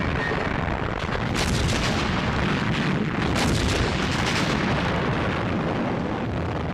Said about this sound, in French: L'artillerie britannique démantèle l'offensive. Les Panzers sont cloués sur place.